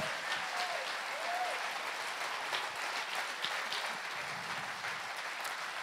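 A church congregation claps for the Lord in a steady wash of applause at moderate level, with a few faint voices rising through it.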